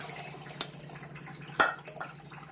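Water and tamarind pulp splash and pour into a cooking pot of okra curry in a brief burst, with soft sloshing and a couple of clinks, fairly close.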